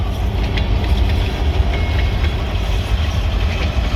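A freight train of about 11 cars rolls along the rails ahead of a winter storm, a steady low rumble with faint metallic clicks, fairly close and with no talking.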